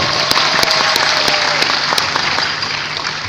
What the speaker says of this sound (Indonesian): Tepuk tangan yang paling meriah untuk Century 21.